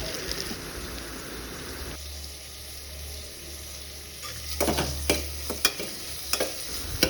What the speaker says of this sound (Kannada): ಆನಿಯನ್ನ ಸ್ಲೈಸಾಗಿ ಕಟ್ ಮಾಡಿಕೊಂಡು ಹಾಕ್ಕೊಂಡು ಫ್ರೈ ಮಾಡ್ಕೊಳ್ಳೋಣ